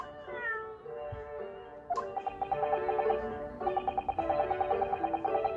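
A cat meows in the video game The Great Ace Attorney, several drawn-out, tonal mews in a row, the later ones pulsing rhythmically, clear and close with no talk.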